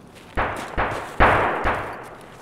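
Four sharp gunshots ring out in Escape from Tarkov, evenly spaced about half a second apart, each a loud close crack with a short echoing tail.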